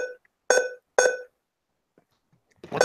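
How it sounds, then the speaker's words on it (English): A charger beeps in sharp electronic tones, three distinct pulses with gaps between them, loud and close in an otherwise quiet room. "What the fuck is that beeping sound?"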